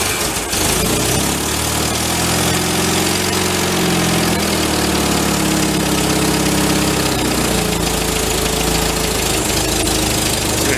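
A revived 1953 MG TD barn-find engine runs loud and close, a rough, steady, continuous idle with a knocking, throbbing undertone that stays strong throughout.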